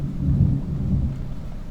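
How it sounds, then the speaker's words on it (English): A low, steady rumble of distant thunder rolls on for a couple of seconds over open water near a liveaboard trawler, with no voices. "Thunder? Yes, that is what I hear over there."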